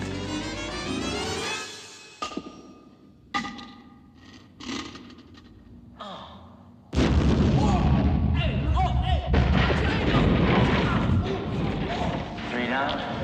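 A grenade explodes in a comedic action scene. Scattered thumps and clatter come first, then a sudden loud blast with a sustained roaring, crackling rumble that fills the rest of the moment.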